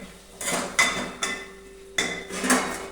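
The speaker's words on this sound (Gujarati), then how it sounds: "હવે આપણે ફરી હલાવી લઈએ આપણે" A ladle clinks and scrapes against a pot of tomato curry as it is stirred, making several distinct metallic taps spaced about half a second apart, close and fairly quiet with no talking.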